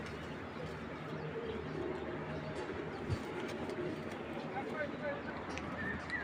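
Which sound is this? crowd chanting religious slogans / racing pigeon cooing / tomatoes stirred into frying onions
racing pigeon cooing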